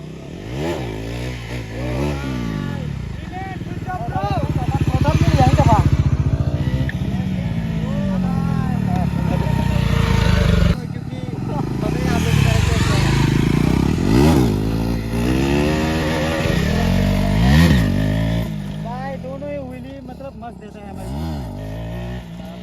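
Bajaj Pulsar NS400Z motorcycle engine revving hard during a wheelie on a Sunday group ride, rising and falling throttle swells with clatter, under voices talking and wind noise.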